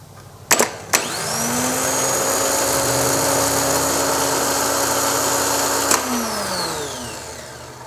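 A car starter motor on a bench test, jumped from the battery, spins up after a couple of sharp clicks into a steady slow whir that holds for several seconds, then winds down with a fading whine.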